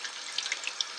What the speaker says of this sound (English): You can wash that out by hand.